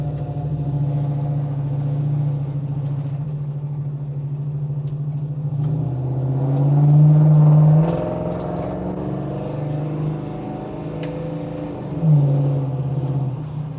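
A restored 1967 Chevelle SS 396 driving through corners, its engine a steady low rumble that swells briefly as the throttle opens, heard from inside without talk.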